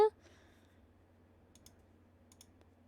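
Faint computer mouse clicks sound while server software is set up, with a couple of quick double-click pairs spread over a quiet room background.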